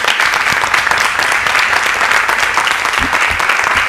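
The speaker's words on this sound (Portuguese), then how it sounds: "Uma salva de palmas para vocês." Loud, dense applause from the audience at a public hearing with ADIs from Baixada Santista and Vale do Ribeira, continuous for a few seconds with no talk over it.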